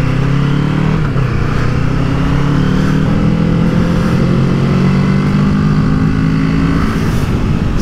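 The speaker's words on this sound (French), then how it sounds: "C'est le bruit d'un bicylindre" A Kawasaki Z650 twin-cylinder motorcycle engine revs steadily and loudly nearby, a continuous buzzing drone with slightly wavering pitch and no pauses.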